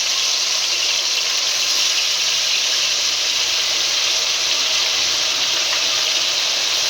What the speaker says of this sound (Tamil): deep fried sound